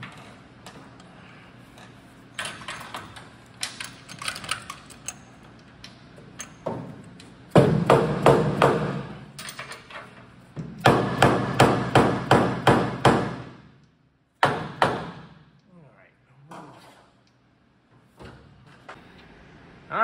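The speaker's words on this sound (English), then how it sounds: "Not without some hammers and some wiggling, and making sure it went in straight so the bolts all went in very nicely" A part being hammered and wiggled into place so its bolts line up, with bursts of sharp, rapid metallic knocks and thuds, some in quick rhythmic runs, separated by quieter handling noises.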